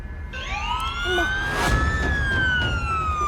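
A police siren wails loudly and close by, its pitch sweeping up and then gliding down over a rumbling traffic background.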